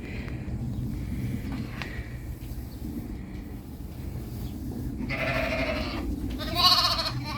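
Low rumbling background noise, then a sheep gives two brief bleats near the end, moderately close.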